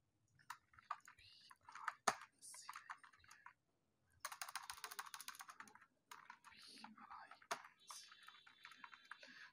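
Rapid clicking of computer keyboard keys while data is entered into an MS Excel salary sheet, close and fairly quiet, coming in bursts with brief pauses and a couple of sharper clacks.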